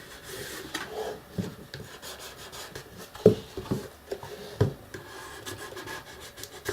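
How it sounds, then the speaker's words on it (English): Adhesive-backed material being burnished onto corners by hand, heard as soft, close rubbing and rasping strokes with a few sharper scrapes, irregular and alone without talk. "let's give that a burnish, especially on these corners"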